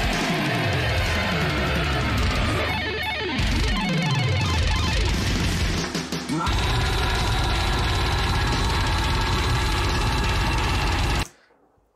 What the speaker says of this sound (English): What you just heard there, with all the sweep picking and stuff on the guitars, is extremely difficult to master.